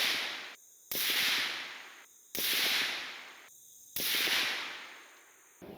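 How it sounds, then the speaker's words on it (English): Three loud, sharp reports from a suppressed KGM R556 rifle fired at 100 yards, evenly spaced about 1.5 seconds apart, each followed by a long decaying hiss-like tail outdoors. "put the suppressor back on the gun, fired another 5-round group, same zero distance, 100 yards"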